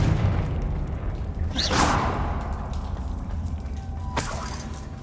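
A Confringo blast spell goes off in Hogwarts Legacy, a loud whooshing burst followed by a rumbling boom, then a second sharper crack a few seconds later over a dense, noisy game background.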